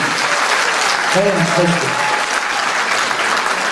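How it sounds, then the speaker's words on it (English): An audience at a live talent-show performance claps and applauds continuously, a dense, loud wash of hands filling the room, while a voice briefly calls out over it. "Give her a big round of applause."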